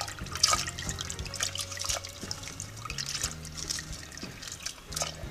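Water trickles and splashes steadily as it is poured into a pot on the stovetop for a vegetable broth of beets, chard, Brussels sprout stems and carrots, close and moderately loud, with no talking.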